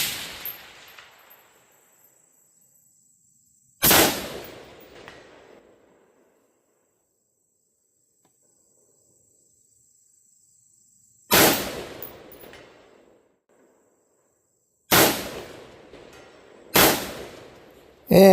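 Rifle shots fired at a 300-yard target, five loud, sharp cracks spaced irregularly with long silent gaps between, the last three closer together, each with a short decaying echo.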